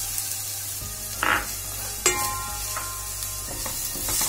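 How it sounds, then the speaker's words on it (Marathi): Chopped onion frying in a pan with crushed garlic and ginger, a steady sizzle with a few spoon scrapes and stirring knocks, close by with no one talking. "कांदा छान गुलाबी रंगाचा होईपर्यंत भाजून घेऊया"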